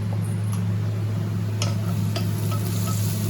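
Chopped onions frying in a pan while being stirred: a steady low sizzle runs throughout with a few sharp scrapes and clinks of the utensil against the pan, close and even, no voices.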